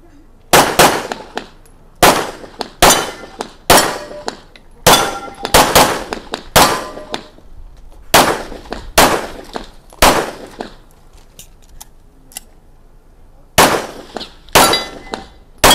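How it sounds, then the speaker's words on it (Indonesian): Rapid pistol shots from a Czech-made handgun ringing off steel targets at a shooting range, a quick series of about fifteen sharp metallic clangs in bursts with short pauses, loud and close, no talk. "Pak Kapolres lagi persiapan untuk nembak seperti yang saya lakukan"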